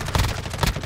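Rapid gunfire bursts in the DMZ video game, a quick cluster of loud shots close by, sounding like a short automatic volley.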